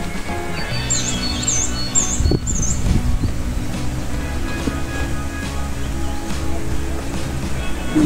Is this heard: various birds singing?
yes